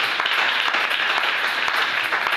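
A church congregation applauds in praise of the Lord, a dense, continuous wash of many hands clapping at steady loudness throughout.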